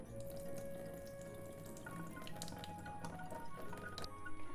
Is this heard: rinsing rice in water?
yes